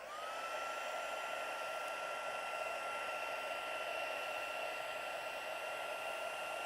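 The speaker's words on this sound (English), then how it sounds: "When you're happy, blast it with your heat gun." A heat gun blows steadily on DuoColor pencil artwork, a continuous even whirring hiss with a fixed tone, close and unbroken throughout with no talk.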